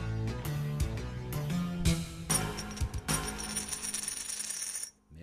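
Metal coins, taken from a numismatic robbery, are handled and dropped, giving a series of bright clinks and rattles of uneven rhythm, close and fairly quiet, ending in a short silence; no speech.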